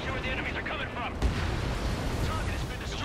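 Rapid anti-aircraft fire bursts and booms from enemy air defenses in the combat flight game Ace Combat 7, a dense rumbling barrage with a louder thump partway through, steady and continuous.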